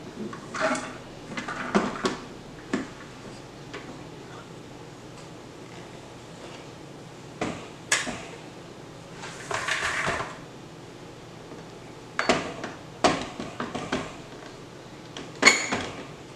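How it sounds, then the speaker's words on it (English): A West Bend Stir Crazy 6-quart popcorn maker gets its cover put on and is flipped over, producing scattered plastic clunks, knocks and rattles in irregular bursts with quiet gaps between. "I'm going to put this cover back on. And then we're going to flip it."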